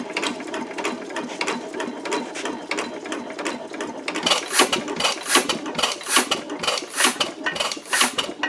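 A Fuller & Johnson 2 1/2 horsepower stationary engine is running with a rapid, clattering mechanical rhythm. It is close and loud and grows a little stronger toward the end.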